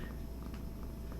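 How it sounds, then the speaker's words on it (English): A cat named Nigel purrs on a lap in a soft, low, steady rumble that stays close and faint. "Nigel, but he's just purring away on my lap."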